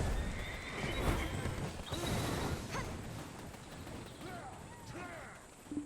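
A horse neighs in the online video game Black Desert, giving several shrill whinnies with hoofbeat clip-clops and other game noise, while voices talk over the scene.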